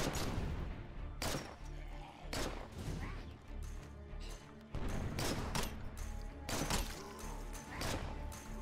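Gunfire in the State of Decay zombie game: loud, close shots ring out in irregular bursts, some in rapid clusters, over a dull background.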